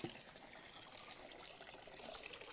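Water pours from a filled bucket for a buffalo to drink in a village, a steady splashing trickle running throughout, moderately faint and alone.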